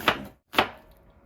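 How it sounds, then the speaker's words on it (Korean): Two sharp knife strikes on a cutting board while an onion is being sliced for a home cooking session, sounding close, crisp and separated by a short pause. "칼질 이렇게 해야지."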